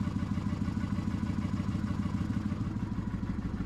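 A smoking motorcycle engine idles close by with a fast, even clattering putter, under faint background sound.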